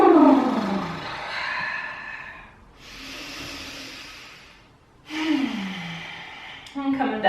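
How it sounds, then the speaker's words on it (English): A person takes slow, deep breaths close to the microphone during a mindfulness exercise. Long airy inhales alternate with drawn-out exhales in a calm, steady rhythm. "Nice deep breaths."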